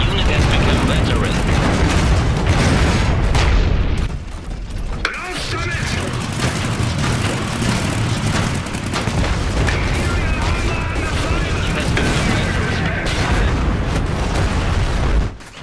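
Several mobile bombs burst in a loud run of booming explosions during an Iron Harvest battle, with dense gunfire and blast rumble filling the scene and a short lull midway.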